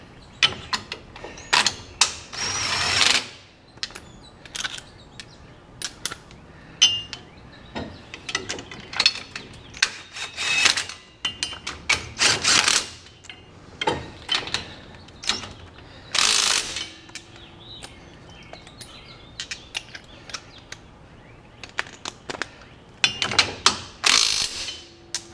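Ratchet socket wrench turning the nuts on a Legends race car's rear gear, with repeated clicking ratchet strokes in uneven bursts, close and loud, plus occasional metallic clanks between them and no speech.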